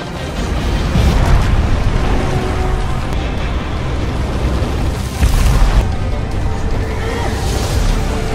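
A colossal explosion as the giant Titan Kronos is blown apart in a fantasy film, a sustained loud roaring blast with heavy low rumble and swelling bursts throughout.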